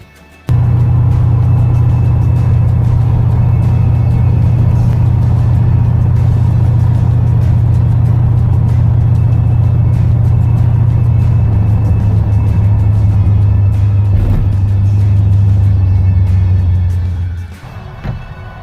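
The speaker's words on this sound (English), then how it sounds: "Here we go, we're getting in the vet and go." A Corvette on a Route 66 road trip drives along at steady speed, its engine a loud, constant low drone with road rumble heard from inside the car, easing off at the end.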